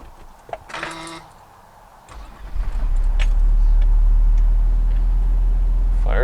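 A 1979 Volvo 245 DL engine cranks briefly, catches, and settles into a steady low idle close by, after a short chime and some clicks.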